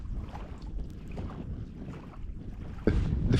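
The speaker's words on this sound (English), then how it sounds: "The wind is just bitter, but we're having a great night." Bitter cold night wind buffets the microphone outdoors on a remote island camp by a loch, a continuous rough rumble that swells sharply near the end.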